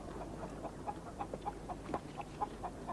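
Chickens cluck in short, repeated bursts over a steady background hum, the calls coming at an irregular but frequent pace.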